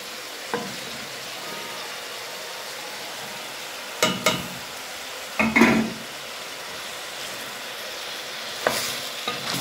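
Onions and meat stirred and fried together in a pan, giving a steady close sizzle with a few bursts of spatula scraping and clatter against the pan.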